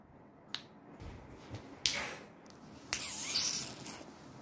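Several crisp finger snaps, separate sharp clicks spaced irregularly over a few seconds against a quiet background, close to the listener.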